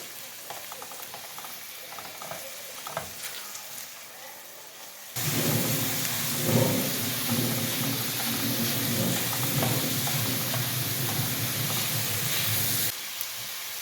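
Chicken frying with lightly sautéed onions in a pan: a quieter stretch of faint clatter, then a sudden loud, dense sizzle that holds steady for several seconds before dropping back.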